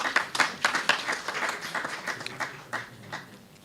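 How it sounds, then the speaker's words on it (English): Audience applause at a fatherhood convention, a steady wash of many hands clapping with scattered louder claps, fading slightly toward the end. "We appreciate a round of applause,"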